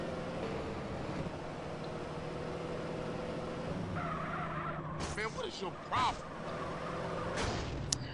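A car drives in the video game Grand Theft Auto: San Andreas, its engine droning steadily with tire squeals and skids midway and a few sharp bumps, while someone talks over it.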